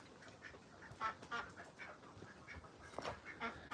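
Ducks on a rural property with fruit trees quack in a series of short, moderately faint calls over a few seconds, heard at some distance against a soft outdoor background.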